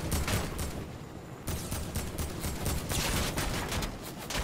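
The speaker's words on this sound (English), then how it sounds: "Careful, there's a team behind us shooting." Enemy team gunfire in a competitive shooter video game, heard as a dense, continuous stream of sharp rapid shots and bursts at fairly steady loudness, with a short lull near the middle.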